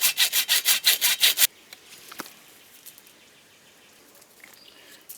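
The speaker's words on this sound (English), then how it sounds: "I'm just going to cut a short little stubby piece" Rapid back-and-forth saw strokes cut a short, stubby piece for a homestead build, about eight loud, even strokes in quick rhythm that stop abruptly and leave near-silence with faint background sounds.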